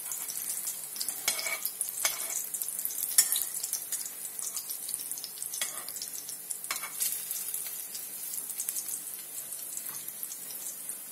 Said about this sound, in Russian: Все, жарится.